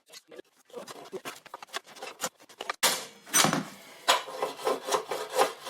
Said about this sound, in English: with my brand new Rage saw, what I need to do is get a bit of timber in here